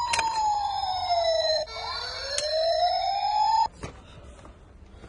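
A plastic toy fire engine plays its electronic siren, a loud close wailing tone that sweeps up and down in long cycles, then cuts off abruptly near the end.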